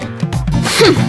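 A single sneeze, close and loud, with a short breathy buildup before the sharp burst.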